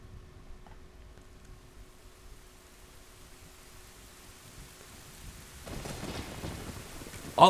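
Rain begins pouring with a thunderstorm in Zelda: Ocarina of Time, a dense hiss swelling in after a quiet stretch and ending in a sudden loud crack.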